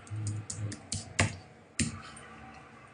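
Keystrokes on a computer keyboard while Linux commands are entered, a handful of separate clicks and taps spaced irregularly, two of them sharper and louder, with quiet low hum between.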